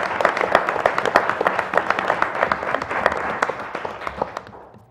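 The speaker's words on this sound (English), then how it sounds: "So please join me in giving Lisa a well-deserved round of applause." An audience at a board meeting gives a colleague named Lisa a round of applause, dense and steady clapping from many hands nearby that tapers off toward the end.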